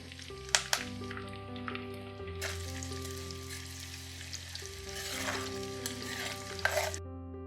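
Chopped green chili and curry leaves sizzle in hot oil for a black-eyed pea curry tempering, a continuous close crackle punctuated by a few sharp spatters and stirring sounds.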